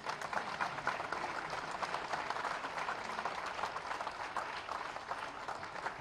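Audience claps steadily at a government hospital event, an even wash of applause continuing throughout without pause.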